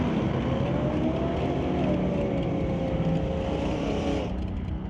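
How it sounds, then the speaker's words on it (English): Racing pickup trucks roaring down a drag strip at a sportsman race, a loud sustained engine drone with rising pitch as they pass, heard alone without talk. "Two pickups going down track."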